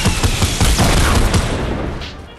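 Rockets exploding in the Fortnite video game: a rapid cluster of loud, close booms and blasts piling up over a couple of seconds, then tailing off.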